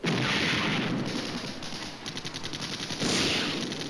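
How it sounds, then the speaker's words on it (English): Rapid bursts of gunfire and artillery impacts crackle through a video game battle during an artillery strike on a tank, with dense repeated reports, a loud opening volley and a second heavy burst near the end. "Artillery strike on our tank."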